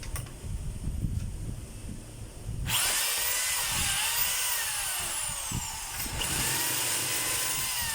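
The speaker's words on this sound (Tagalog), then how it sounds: "Check natin yung hammer" A power hammer tool is tested. Low rumbling handling noise gives way to a loud, steady high-pitched motor whir that runs for several seconds, dips briefly, then resumes close up.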